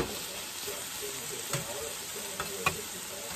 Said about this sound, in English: I'm gonna throw my chicken in there right quick